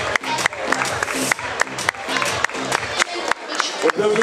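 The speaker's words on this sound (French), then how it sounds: "On peut applaudir bien sûr tous ces pilotes." A crowd at a kart racing trophy ceremony claps steadily and loudly for the drivers, with rhythmic applause that has sharp accents, and someone talks over it.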